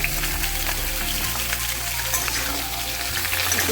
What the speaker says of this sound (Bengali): কেটে রাখা সবজিগুলো ফ্রাই করার জন্য দিয়ে দিলাম কড়াইতে